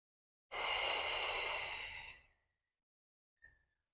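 One deep, drawn-out inhale close to the mic during a beginner Pilates core exercise, lasting nearly two seconds, then a short faint breath after a pause.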